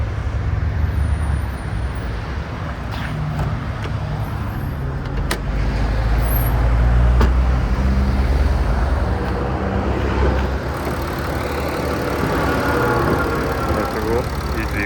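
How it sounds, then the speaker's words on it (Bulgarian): A running Audi A6 biturbo engine with the hood open, giving a steady, close, low mechanical rumble that holds evenly throughout with no breaks. "Чувате как работи колата."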